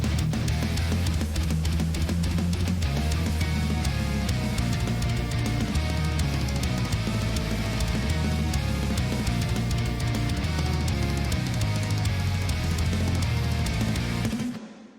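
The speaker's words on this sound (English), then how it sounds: "There's a B section. It sounds like this." Full-band music section of a mix with a guitar-driven arrangement, heavy steady low end and dense harmonic layers, loud and continuous throughout before cutting off abruptly at the end.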